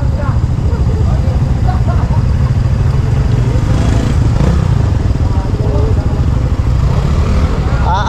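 A motorcycle fitted with a new exhaust runs nearby with a steady, low, throaty engine rumble throughout, while people talk over it.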